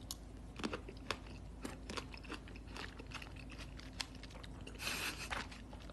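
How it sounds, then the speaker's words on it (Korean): Crisp crunching bites and chewing of food, close and repeated at irregular intervals, with a louder burst of crunching near the end and no talking. "씹는 소리가 신나 보인다고?"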